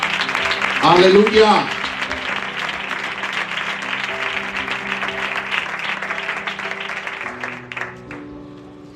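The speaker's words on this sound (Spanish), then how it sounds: "Dale un aplauso al Señor." A church congregation claps for the Lord during a sermon, a dense, sustained applause filling the room, with a voice calling out loudly over it early on before the clapping gradually thins and fades.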